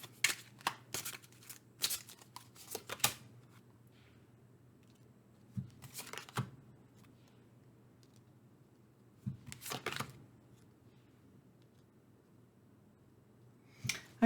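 Tarot cards are shuffled in short papery riffling bursts, several quick flurries early on and then a few more separated by quiet pauses, close and soft.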